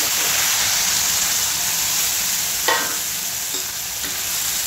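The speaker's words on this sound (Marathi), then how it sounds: "तर आपल्याला मसाल्याला छानपैकी आपल्याला तेलात भाजायचं आहे" Ground masala paste with Kashmiri red chilli frying in oil for an egg curry gives a steady, close, even sizzle that runs unbroken throughout, with a couple of faint clinks partway through.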